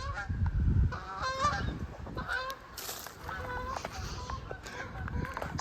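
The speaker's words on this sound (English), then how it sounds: "Looks like we got a couple geese trying to ruin our video here." A couple of geese honk repeatedly along an old railroad track, loud nasal calls in uneven bursts across the whole stretch, fairly close, over outdoor background noise.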